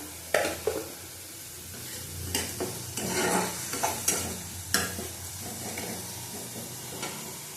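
Spatula stirring and scraping through sizzling oil and a pinch of sugar while frying for panch phoron rohu, several sharp scrapes and clatters over a soft, steady frying hiss.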